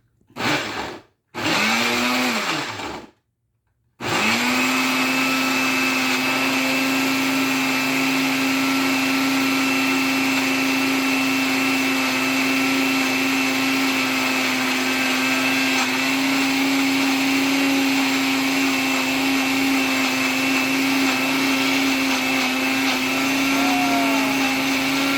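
A new 120-volt electric blender starts in a few short bursts, then runs continuously with a steady loud motor whine and hum, close up and alone for over twenty seconds.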